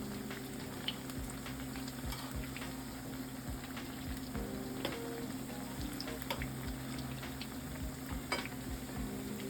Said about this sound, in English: we're just gonna continue frying these plantains